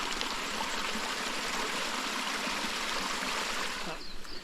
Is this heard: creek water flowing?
yes